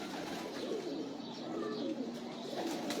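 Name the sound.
old-breed pigeons cooing on a rooftop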